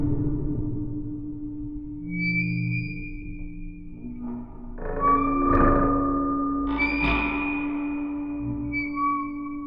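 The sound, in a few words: contact mic recordings of creaks and groans with digital reverb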